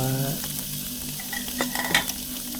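BBQ ribs sizzling steadily on a hot grill after searing both sides, a close, continuous crackling hiss with small pops and clinks.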